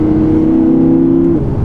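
A 610-horsepower supercar engine holds a loud, steady drone that climbs gradually for over a second before dropping off, close and alone with no talking.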